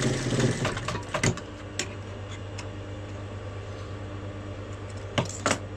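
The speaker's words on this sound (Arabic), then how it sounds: "ندير لها خياطة" A sewing machine stitches trousers with a steady, close motor hum. A few sharp clicks fall near the start and end, and no one speaks.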